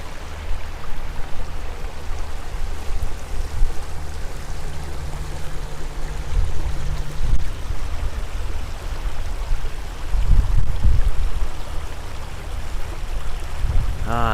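A woodland creek flows steadily at the bottom of a path through pricker bushes, its broad, even wash running close and continuous from start to finish, with a few heavier low rumbles near the end.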